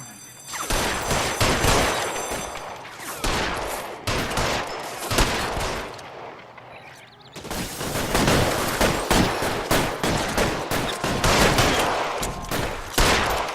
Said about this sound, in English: Got good old Tommy gun for this show, guys.